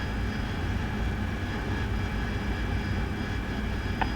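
AV-8B Harrier jet in a video game flying low at night, a steady loud engine roar and hum holding evenly throughout with no talk.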